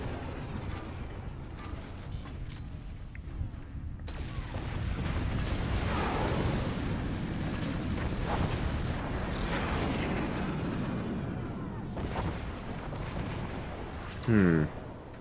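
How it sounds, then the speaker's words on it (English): Howitzer shells strike targets in a video game, producing rumbling booms and explosive crashes over a sustained low roar, heard under continuous commentary from a man. "The howitzers from Lewis now retargeting to Clow. Clow gets hit with them and loses a lot of anti-air and armor"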